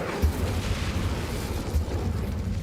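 Hogwarts Legacy's Incendio fire spell bursts into a fiery explosion, a rough, noisy blast with a deep low rumble that holds steady for a couple of seconds, with a second swell near the end.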